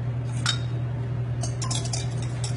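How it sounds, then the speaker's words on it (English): Eggs being whisked with brown sugar in a bowl, a whisk clinking against the sides in quick, irregular strokes over a steady low hum, fairly close and moderately loud. "I whisk in brown sugar."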